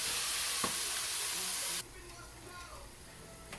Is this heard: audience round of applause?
no